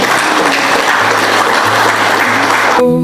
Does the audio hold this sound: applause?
yes